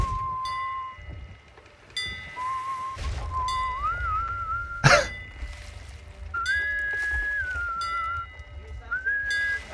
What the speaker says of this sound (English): And I'm whistling